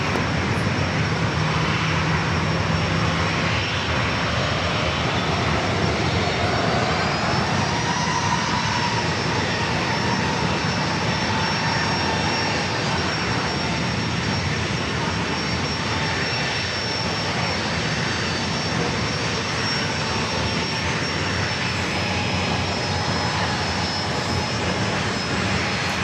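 A United Boeing 737-900 jet at San Diego airport gives a steady, loud, continuous engine roar with a faint rising whine, holding at constant strength throughout with no voices.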